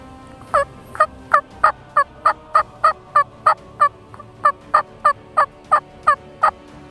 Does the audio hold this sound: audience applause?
no